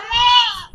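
A single drawn-out goat bleat, loud and close, wavering slightly as it fades, with a faint low rumble underneath.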